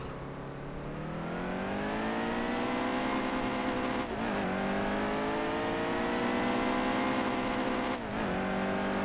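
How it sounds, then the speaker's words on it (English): NASCAR Heat 2 stock car engine held at high revs, a loud sustained racing drone that rises and then twice stutters briefly against the rev limiter, with no talk. "Hit the rev limiter a couple times. Get the engine warmed up."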